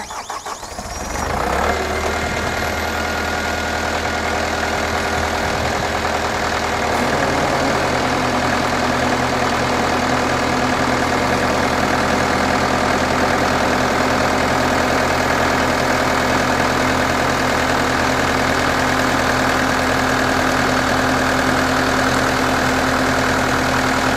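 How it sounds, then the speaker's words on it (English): JCB 190T skid steer running as its parallel lift arm raises, a loud steady diesel drone with a hydraulic whine that shifts pitch after several seconds and then holds, close and continuous without speech. "And as we'll demonstrate, the arm lifts up straight up."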